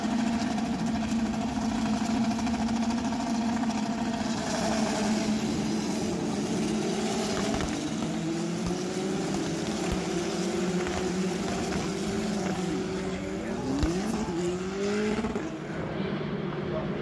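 At the start of a race at Brands Hatch, several race car engines drone together at a distance, with their pitches rising and shifting as the cars accelerate. The sound is steady and fairly faint, with a voice talking over it.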